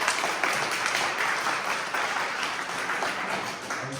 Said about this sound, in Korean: 동지의 힘찬 박수와 함께 시작하도록 하겠습니다